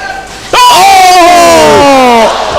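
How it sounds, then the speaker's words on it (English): A gym crowd of kids at a high school girls' and boys' basketball game chants and cheers loudly in unison, a sustained roar of many young voices rising suddenly and holding steady. "The kids are chanting, one more shot, one more shot."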